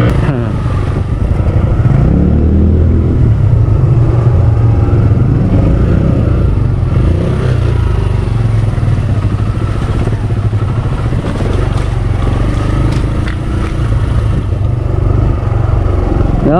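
A Kawasaki KLX 150L motorcycle rides a dirt trail at Tigbauan, its engine droning loudly and steadily at close range, with clattering from the rough ground running underneath.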